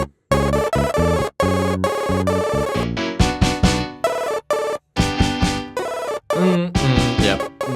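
Excerpt of a rock song played back during a music quiz, loud and dense with full band instrumentation, a few abrupt cuts and short gaps breaking the playback.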